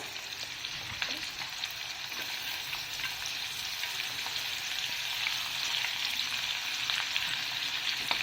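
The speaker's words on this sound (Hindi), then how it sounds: "आप देख सकते हैं कि क्रैकल होना शुरू हो चुका है।" Cumin seeds crackle in hot oil for a bottle gourd sabzi, a steady bright sizzle with scattered small pops, close and fairly soft, no voices.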